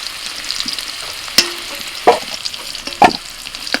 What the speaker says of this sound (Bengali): লবণ, হলুদ গুঁড়ো, আলুগুলোকে একটু লাল করে ভেজে নেব